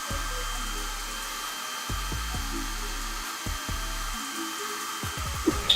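A hair dryer with a diffuser drying curly hair runs as a steady close whir, with low thumps and shifts in tone as the head is tipped back and the dryer is moved around. No one talks.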